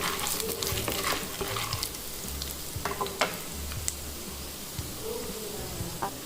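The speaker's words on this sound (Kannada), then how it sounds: "ಅದನ್ನು ಲೈಟಾಗಿ ಫ್ರೈ ಮಾಡ್ಕೊಳ್ಳೋಣ." Chickpeas and half-fried garlic sizzle in a small amount of oil while a spoon stirs them, giving a steady close crackle broken by scraping and clinks, with no talking.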